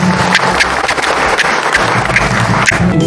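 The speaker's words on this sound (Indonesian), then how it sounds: "Tepuk tangan buat kita semua." Villagers applaud at a politician's community recess meeting in Desa Cipelah, producing loud, close clapping with uneven sharp hits and a low rumble of background noise beneath it.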